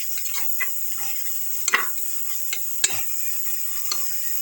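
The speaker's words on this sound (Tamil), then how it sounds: "அதையும் நல்லா சாட்டே பண்ணிக்கோங்க" Mint and coriander leaves sauté in a pan for mushroom biryani: a soft steady sizzle with repeated spatula scrapes and a few sharp clinks against the pan, close and without speech.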